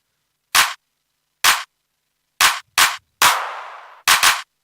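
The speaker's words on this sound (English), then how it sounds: "So we'll go with some claps next." Sharp clap samples in a donk dance track, seven dry isolated hits in an uneven pattern, one with a longer decaying tail and a quick double hit at the end, loud and alone.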